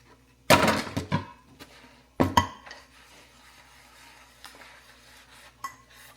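Clattering pots and dishes being washed in a home kitchen, with two loud bursts of clanking metal and crockery near the start, then lighter scattered knocks and scrapes fading into quieter rinsing.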